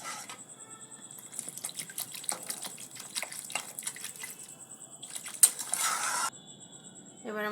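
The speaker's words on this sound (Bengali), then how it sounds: "গ্রেভির জন্য জলটা যতটুকু প্রয়োজন সেইটুকু দিয়ে দেবো।" Water is poured into a pan of taro curry to make the gravy, giving a soft, continuous splashing trickle with small drips and clinks that swells briefly louder near the end.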